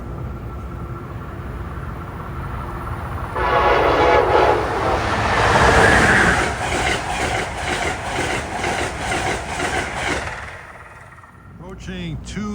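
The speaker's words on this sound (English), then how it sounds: "Approaching 233 is New Jersey Transit train 7845 with an Alp 45 DP with LED lights." A New Jersey Transit train hauled by an ALP-45DP locomotive approaches Princeton Junction, its rumble swelling loud, then rhythmic wheel clatter and wagon passes over rails, with someone speaking over it near the start.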